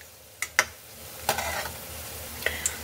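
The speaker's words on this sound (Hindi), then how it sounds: "तो इन्हें हमने तब तक फ्राई करना है जब तक कि ये गोल्डन कलर के नहीं हो जाते।" Garlic bondas deep-fry in oil with a soft background sizzle and a few sparse, sharp pops and spatters at irregular moments, with no talking.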